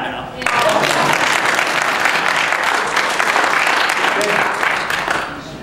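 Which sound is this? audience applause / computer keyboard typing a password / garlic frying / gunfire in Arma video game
audience applause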